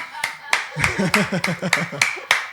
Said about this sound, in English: In case you're wondering who is clapping off camera, that's me.